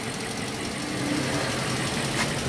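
A $1,000 Range Rover engine running steadily just after starting, a faint, even idle rumble with no talking.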